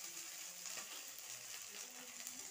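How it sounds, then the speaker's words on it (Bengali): Tomato poured into a hot frying pan for a kalbaus fish curry with potato and lentil dumplings, giving a steady, close, even sizzle of frying that runs throughout without talk. "এই যে এখন আমি টমেটোটা ঢেলে দিচ্ছি।"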